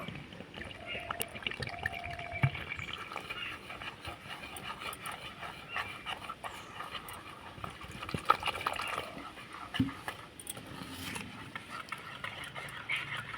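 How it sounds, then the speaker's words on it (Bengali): Jali pitha flour is mixed with water in a bowl, producing soft wet sloshing and stirring with occasional faint clinks, close-up and quiet against low room noise. "এবার জল দিয়ে গুলে নেব"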